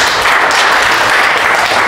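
A church congregation at a Sunday worship service claps loudly and continuously, a dense, even roar of applause filling the whole moment with no speech over it.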